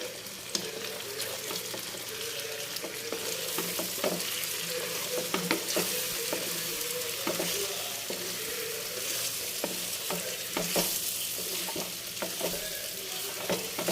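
Chicken sizzles steadily in a hot pan while a spoon scrapes and stirs in irregular strokes, close by and with no talking.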